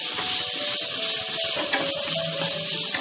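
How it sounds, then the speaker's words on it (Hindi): Vegetables for cutlets fry lightly in a pan, giving a steady, close broadband sizzle and hiss with faint bubbling underneath, unbroken throughout. "हल्का सा इसको भूनेंगे"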